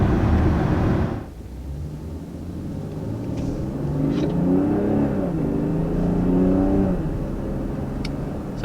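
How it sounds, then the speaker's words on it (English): A 2020 BMW X7 engine accelerating from a rolling start: a steady mid-pitched engine drone that rises in pitch as the revs climb, with road rumble underneath and no voices. "taking off in the BMW X7, I have to say, definitely is impressive how it takes off"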